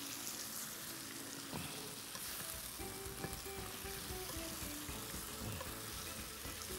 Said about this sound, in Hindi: लीजिए जनाब, इसको ज़रा सा मिक्स करें।